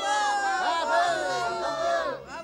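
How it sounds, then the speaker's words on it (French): A cartoon crowd of Smurfs cheers and acclaims a musician: many high, excited voices whoop and shout together in a dense, lively burst that carries on without a break. "Ah, les acclamations, c'est la plus Schtroumpf des musiques pour moi."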